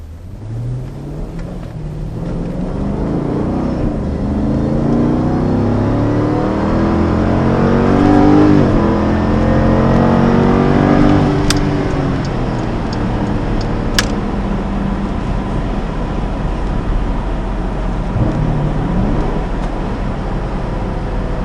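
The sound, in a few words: Jeep SRT accelerating hard up a ramp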